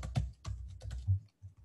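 Soft, irregular clicks of fingers typing on a computer keyboard, quiet and close, with short pauses between bursts of keystrokes.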